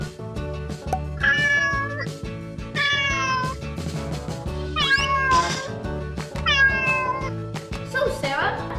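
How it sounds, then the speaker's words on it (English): Kittens meow over and over, several rising, whiny cries spaced about a second apart, heard over a steady low musical backing. "Okay, Sara, I'll put the kittens here and then I'll get them some food"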